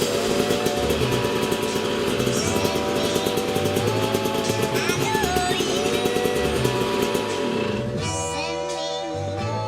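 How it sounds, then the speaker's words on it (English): A 1994 Yamaha YZ250 two-stroke dirt bike engine runs nearby, a loud continuous buzzing idle with slight wavering revs before it drops off near the end. "I have a started 1994 YZ250 that runs"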